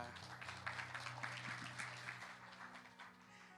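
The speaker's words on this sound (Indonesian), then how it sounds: "Tepuk tangan buat kita semua" A small church youth group claps together in a quiet room, soft scattered applause under ongoing chatter and voices, brief and low in level.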